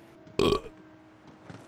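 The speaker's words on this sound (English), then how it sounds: "I actually tried to throw a real burp in there." A single loud, close burp erupts briefly, then fades into a quiet background with faint murmurs.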